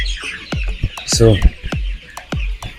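Chickens cluck in short, sharp bursts, several in quick succession and fairly close, while a person speaks briefly over them.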